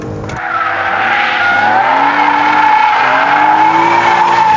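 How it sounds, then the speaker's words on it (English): A BMW E46 M3 power slides out of a track corner, its tires squealing in a loud sustained shriek over a steady high-revving engine note throughout. "I can turn in, punch the throttle, kick the tail out, and then just power slide it out of the corner"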